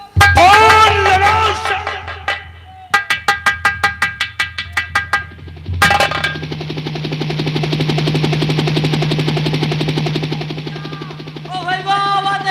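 Rapid, loud mechanical rattling bursts, then a steady chopping drone like a helicopter, with Hindi voices at the start and end, during a live folk theatre show.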